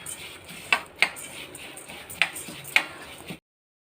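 A metal spoon stirs sprouted kambu (pearl millet) roasting in a pan, making four sharp, close metallic clinks at irregular intervals over a soft background hiss.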